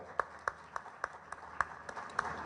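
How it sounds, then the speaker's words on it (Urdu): Sparse, faint claps from a small crowd honoring two directors at a groundbreaking ceremony in Pakistan, about a dozen separate hand claps spaced in a loose, slightly irregular rhythm. "دونوں کے لیے بہت سی تالیاں"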